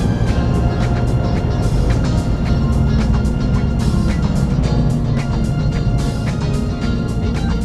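A Subaru Impreza WRX STI in sport mode on track at Fuji Speedway: a loud, steady engine roar that stays close throughout, with no voices.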